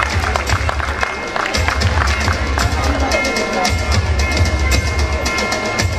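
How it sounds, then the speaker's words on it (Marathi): Parents and guests at a school annual function clap loudly in a dense, continuous burst of applause, with a low rumbling hum and some voices mixed underneath. "सगळ्यांनी जोरदार टाळ्यांनी सगळ्यांनी टाळ्या वाजवायच्या आहेत"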